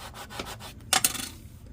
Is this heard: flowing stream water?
no